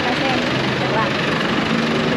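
A jeepney engine idles in a steady, even rumble with no revving, a continuous mechanical drone that fills the whole stretch.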